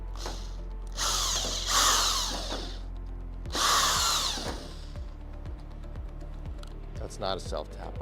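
A power drill drives a self-tapping screw into the trunk of a crew cab Charger, with two loud bursts of whirring followed by clicking and ratcheting sounds, close by with a voice talking over it.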